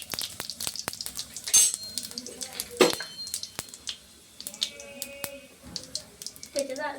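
Cumin seeds and chillies frying in hot oil in a pan, a light crackling sizzle with clinks of a utensil stirring against the pan, under a person talking.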